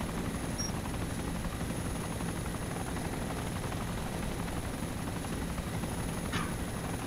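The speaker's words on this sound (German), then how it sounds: "Alter, wie laut ist der, Mann?" Steady, close helicopter rotor and engine drone from a Little Bird in the video game DayZ Origins runs continuously and loudly throughout, with no talk.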